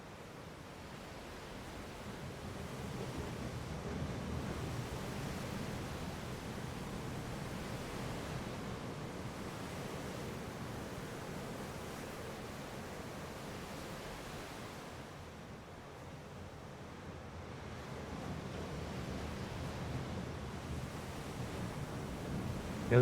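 Strong gusting wind on the Dallas Road waterfront in Victoria, with waves washing against the shore, forms a steady, broad roar that swells and eases over the whole stretch, with no voices.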